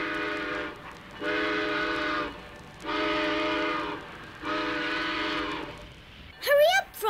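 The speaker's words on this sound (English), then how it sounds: "The train is pulling out." A cartoon train sounds its whistle in three long blasts separated by short gaps as it pulls out, followed by a brief rising, wavering whistle-like sound at the end.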